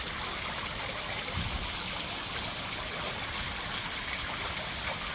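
Water flows steadily through a fishpond filter, a continuous soft trickle and stream-like wash, close and even, with one brief low bump partway through.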